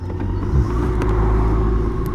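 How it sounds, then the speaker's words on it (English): Road traffic heard from a moving BMW K1600 GTL motorcycle, a loud, steady low engine and wind rumble with a brief swell midway, close and continuous. "Traffic!"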